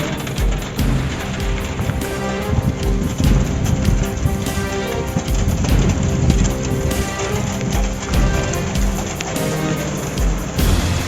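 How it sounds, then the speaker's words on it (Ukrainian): Hail falling together with rain in September, a dense, steady rattling patter with wind noise buffeting close to the microphone throughout, loud and unbroken with no talk. "Град вместе с дождем."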